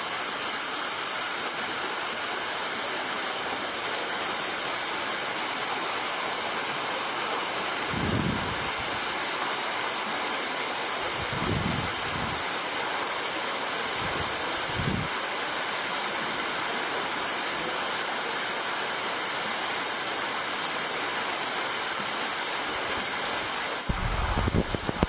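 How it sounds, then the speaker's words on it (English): Waterfall number 7 in Hidden Jewel Gorge, Australia, gives a constant, even rushing roar close by that holds for the whole stretch, with a few faint low thumps beneath. "here we are at number 7 waterfall"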